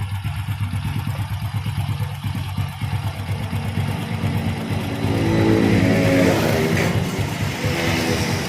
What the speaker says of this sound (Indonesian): Terdengar suara kasar di area silinder head.